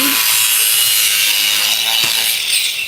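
A cutting wheel on a tool grinds through fiberglass, plastic or PVC with a loud, continuous hissing rasp, close up and unbroken, with no talking.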